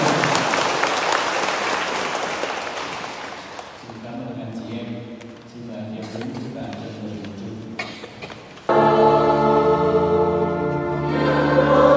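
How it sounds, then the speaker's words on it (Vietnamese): Wedding guests at a Vietnamese ceremony applaud loudly in a dense burst that fades within a few seconds, then sustained music tones take over. "xin cùng là chúng ta nổ một tràng pháo tay."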